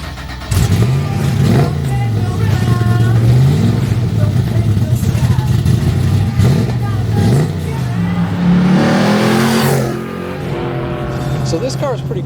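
A 1973 Firebird Trans Am with an 800 hp modern LS engine revs and roars while driving, its loud rumble rising and falling in pitch, with a voice talking over it.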